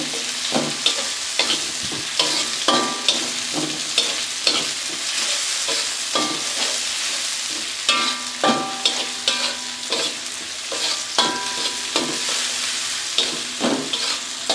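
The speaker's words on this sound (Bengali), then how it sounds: "দিয়ে দিলাম কেটে রাখা পেস্ট। সুন্দর করে ভেজে নেব" Spice paste fries in a pan for a Bangladeshi fish and sweet pumpkin curry, a steady close sizzle punctuated by regular scraping strokes of a spoon stirring, with no voices.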